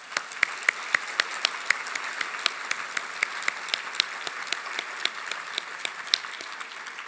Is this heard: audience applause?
yes